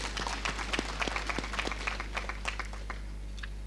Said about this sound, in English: Let's clap for the Chancellor.